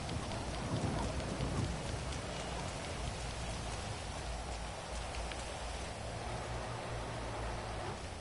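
Steady, heavy rain pours in the GTA Online game world, a continuous hissing downpour with a low rumble of thunder underneath.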